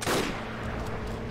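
A Bren gun fires in the video game Forgotten Hope 2, a loud booming shot with a rumbling tail that fills the brief moment.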